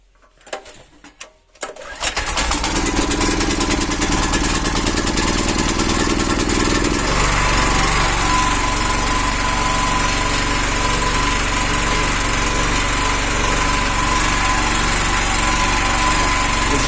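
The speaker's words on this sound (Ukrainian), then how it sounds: "поки прогріється трошечки, секунд 20. То, що я в домі вже переключив автоматику, вже напряму дом генерується зараз від генератора" A natural gas powered generator engine starts after a few brief clunks, then runs loud and steady with a constant droning hum that shifts slightly in tone partway through, no talk.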